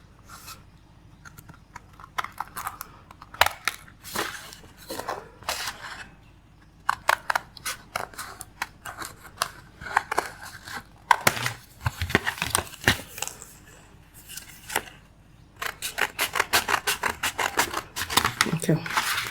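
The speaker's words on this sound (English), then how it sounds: "All right, so I'll cut this out." Scissors snipping through dress fabric to cut a facing piece, irregular crisp cuts and rustling cloth close by, with a voice talking over much of it.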